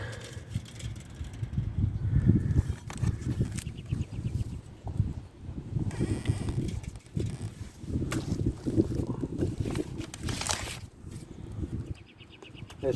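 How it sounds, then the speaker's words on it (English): Gusty wind buffets the microphone in a garden, rumbling in uneven bursts at close range with a few faint sharper sounds mixed in and no talking. "This wind is not helping."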